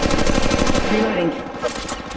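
Rapid automatic gunfire rattles in an Android shooter game featuring the character Wraith, a loud, close burst of evenly spaced shots that thins out and continues more sporadically.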